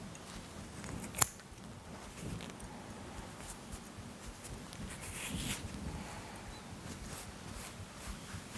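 Scissors snip tufts of hair close to the skin while a Black Deceiver streamer fly is being tied, giving one sharp click near the start and then softer faint snips over a low steady background.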